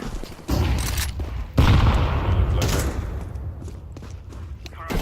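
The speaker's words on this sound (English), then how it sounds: "I'm throwing a flashbang." A flashbang grenade going off in Counter-Strike, two sharp bursts about a second apart followed by a ringing decay, with a player's voice talking over the game.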